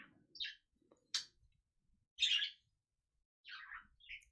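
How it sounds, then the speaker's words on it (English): A few short, high bird chirps scattered over quiet silence, faint and somewhat distant, arriving in irregular bursts. "here for the bird noises"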